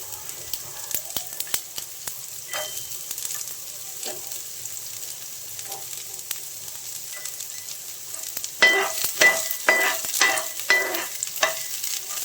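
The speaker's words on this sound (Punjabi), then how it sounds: "ਪਿਆਜ਼ਾਂ ਨੂੰ ਵੀ ਥੋੜਾ ਜਿਹਾ ਆਪਾਂ ਇਸ ਤਰੀਕੇ ਨਾਲ ਹਿਲਾਉਂਦੇ ਹੋਏ ਥੋੜੇ ਥੋੜੇ ਭੁੰਨ ਲਾਂਗੇ ਆਪਾਂ" Finely chopped onions fry gently in a pan while a utensil stirs them, giving soft clicks and scrapes over a low, steady sizzle that grows busier toward the end.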